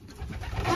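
Racing pigeon cooing near a keeper at feeding time, a low soft burbling murmur that swells slightly toward the end, heard alone without talk.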